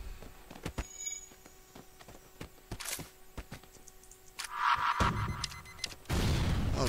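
Bomb weapon firing in FTL, the spaceship combat game: a string of sharp synthetic booms and clicks, then a louder whooshing burst and a final roaring blast, all close with no voices.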